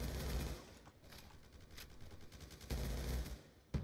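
Fast automatic gunfire in Black Ops 2 team deathmatch, a near-continuous burst of rapid shots at fairly low level with rattling, dense crackle throughout.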